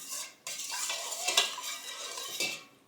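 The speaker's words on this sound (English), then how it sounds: "if I just give this a very good stir" A spoon stirs leftover venison stroganoff in a metal pot, scraping and clinking against the sides in steady close strokes with a couple of sharper knocks, no voices.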